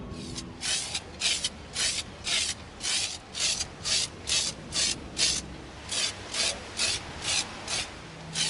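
Repeated short bursts of a spray paint can hissing flat antique nickel onto an EVA foam blaster, about fifteen quick sprays in an even rhythm, close and fairly loud.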